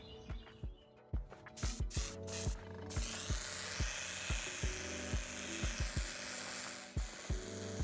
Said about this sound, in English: Now I used a small airbrush for this third layer.